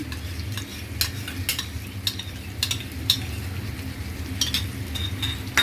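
A spoon beats cashew-almond paste and sour yogurt into chicken for a Bengali-style roast, with a soft low churning under sharp, irregular clinks of metal on the pot rim, close and steady with no talking.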